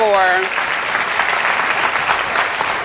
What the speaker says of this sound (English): can we get a round of applause for Black History Month